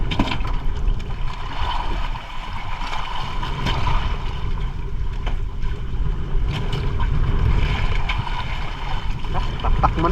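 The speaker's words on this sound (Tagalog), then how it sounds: "grabe lalaki ng alon" A small fishing boat out in big waves and strong wind, with a continuous roar of wind and rushing water slapping against the hull, loud and close throughout.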